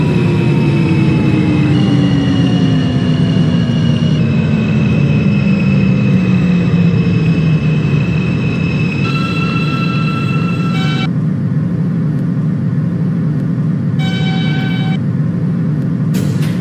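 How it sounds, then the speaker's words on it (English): An R160 subway train runs on the F local line in the OpenBVE train simulator game, a loud steady rumble with whining motor tones that fall away as it coasts, alone without voices. "This is a Queensbound F local train."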